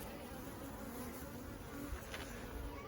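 Honey bees buzzing steadily at an open hive of a single brood chamber with honey supers, a dense continuous hum close by with no voices.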